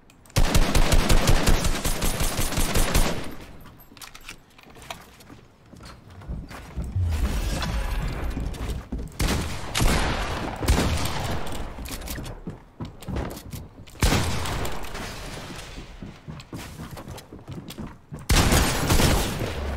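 Rapid automatic gunfire in the Fortnite video game, with loud, dense bursts of shots and mechanical clatter that come in repeated volleys with short pauses between them.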